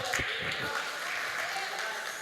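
Steady applause from a church congregation fills the short clip, with a brighter clap or two standing out near the start.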